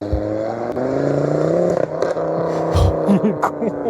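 A car engine hums steadily with harmonic tones shifting in pitch, close by, with a few scrapes and clicks over the top, heard from a motorcycle ride behind the car.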